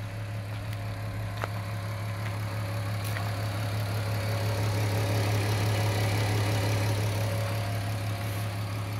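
Engine of a VW T5 3.2 petrol 4x4 van running while driving, a steady low drone with a constant hum and faint road noise, unbroken and heard from inside the cabin with no voices.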